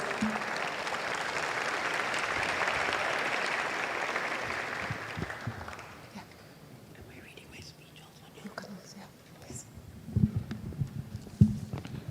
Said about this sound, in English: Professor Caroline Thurua, a round of applause.